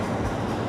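A train rumbles steadily as it pulls into a local station at night, a close, continuous low roar of wheels and carriages with no voices.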